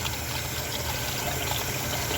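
Cool tap water runs steadily over pork ribs being rinsed, a continuous faint splashing hiss with no voices.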